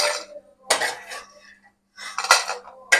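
Metal utensils clink and scrape against a pan while roasted asafoetida is lifted out for a homemade Maharashtrian spice mix, in a few sharp, close bursts separated by short quiet gaps.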